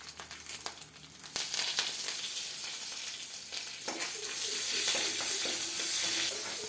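Curry leaves crackle and sizzle as they hit hot tempering oil with mustard seeds and coconut pieces, sharp popping bursts settling into a steady, close fry with stirring.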